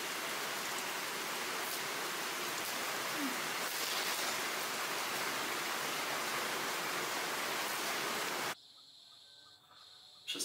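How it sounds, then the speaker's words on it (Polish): Heavy rain pours steadily onto a house under construction in the Philippines with part of the roof still missing, a dense, loud hiss that cuts off abruptly near the end. "Ale ładnie leje, widać."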